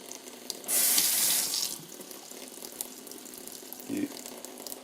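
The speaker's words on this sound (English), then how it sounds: "the faucet is dripping water quite bad" A loose Delta single-handle kitchen faucet lets out a short burst of running water, then a single soft drip a few seconds later, close and fairly quiet in an otherwise calm room.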